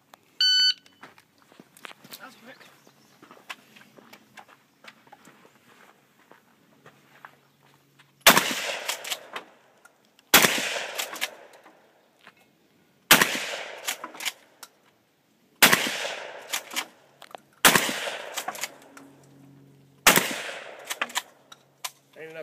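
Shotgun fire in a three-gun shooting match: after a short electronic beep and quiet shuffling, six loud, sharp blasts ring out close by at roughly two-second intervals, each followed by a brief decaying tail.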